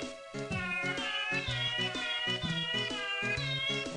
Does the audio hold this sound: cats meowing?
yes